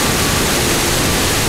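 A decorative color-changing indoor waterfall with penguin figures, part of a hotel's Christmas display in Nashville, Tennessee, gives off a steady, loud, broadband rush of falling water, with no pauses or voices.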